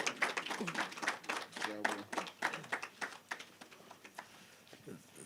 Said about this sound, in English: Please give him an extra big round of applause.